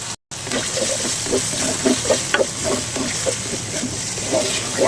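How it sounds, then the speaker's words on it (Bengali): Prawns stir-fry in a spice masala with a steady run of soft scraping strokes and a wet sizzle. The sound is close and fairly loud, with no voices. "চিংড়ি মাছ দিয়ে আরও কিছুক্ষণ একটু কষালেই হয়ে যাবে"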